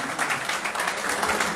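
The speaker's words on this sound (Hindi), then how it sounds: "भरपूर तालियों में" A crowd at a worker union referendum rally claps to welcome a speaker, giving dense, even applause throughout with no talk over it.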